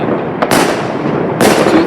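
New Year 2023 fireworks bursting nearby, two loud crackling blasts with rumbling, sizzling decay between them, no voices.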